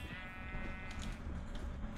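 Minecraft cows in a dark enclosure make short bleating, lowing calls in overlapping bursts, fairly close against soft background noise, with no speech.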